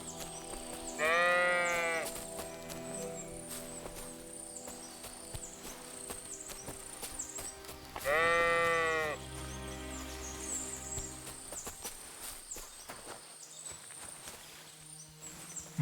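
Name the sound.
sheep bleating in video game Kingdom Come Deliverance II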